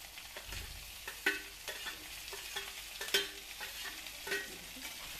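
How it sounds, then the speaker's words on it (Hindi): Onion, garlic and green chili fry and sizzle in a pan over a medium flame, a soft continuous crackle with a spoon stirring and scraping at intervals, close and with no one talking. "अब मैं ये जब तक अपना मीडियम फ्लेम पे भूजती हूँ"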